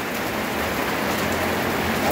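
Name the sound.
heavy rain falling in the mountains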